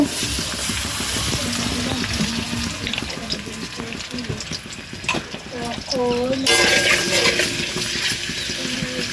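Onions frying in oil in a pan for a potato and pea dish, a steady close sizzle with stirring and clinks of utensils, a voice speaking at times over it.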